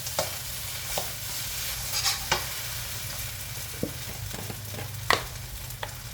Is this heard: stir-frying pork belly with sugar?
yes